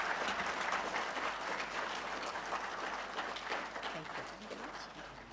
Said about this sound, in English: Can we please welcome her with a continuous clap?